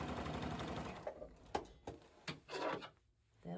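Sewing machine stitching quilt fabric squares for a gingham grid quilt, a sustained whirring run followed by short bursts, clicks and pauses as the fabric is handled.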